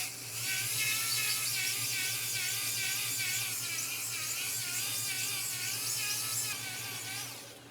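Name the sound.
cylinder hone running in 351W engine block cylinder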